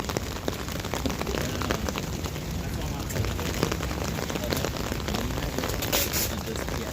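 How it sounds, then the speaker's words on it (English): Rain falls steadily on surfaces outdoors at a street protest, a dense, even hiss and patter throughout with no clear talk over it. "Why did it have to rain?"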